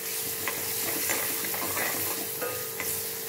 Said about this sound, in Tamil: நறுக்கி வச்ச சின்ன வெங்காயம் போட்டுக்கலாம்.